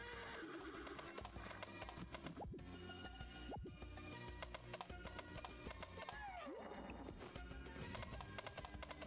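Rapid hoofbeats of a galloping horse clip-clop steadily in the video game Harvest Moon: Magical Melody, with a neigh and game music layered over it, quiet overall.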